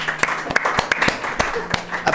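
A small group claps briefly in a casual studio-style setting, with a few sharp, irregular hand claps mixed with chatter and voices over the top.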